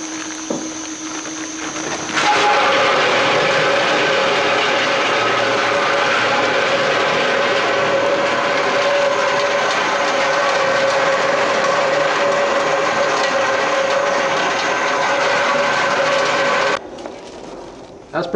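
Quadro 196 Comil mill delumping pineapple pieces at 600 RPM, a steady loud mechanical whir with a constant hum that starts abruptly, runs evenly and then drops off near the end.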